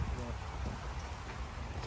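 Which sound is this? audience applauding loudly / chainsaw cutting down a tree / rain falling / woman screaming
rain falling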